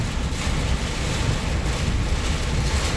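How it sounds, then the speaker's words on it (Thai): Strong wind roaring past a moving boat on open water in a heavy rainstorm, a steady loud broadband rush with low rumble throughout and no clear separate rain patter. "ดูลมนะครับ"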